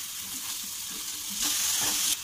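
Garlic and capsicum fry in hot oil for a pasta dish, giving a steady close sizzle that swells louder partway through as more is stirred in, with no voices.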